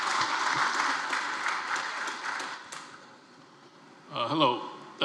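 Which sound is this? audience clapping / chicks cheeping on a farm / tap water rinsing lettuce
audience clapping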